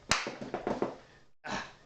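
Hands clap: one sharp, loud smack, then a run of softer rhythmic claps, a brief silence, and a final burst of noise, with no talking.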